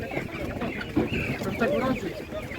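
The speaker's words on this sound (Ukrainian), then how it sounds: "А це біла курка, це яка порода, це біла шуна?" A white chicken clucks at an outdoor animal market in Ukraine, with several short, close clucks and squawks mixed with the murmur of people talking nearby.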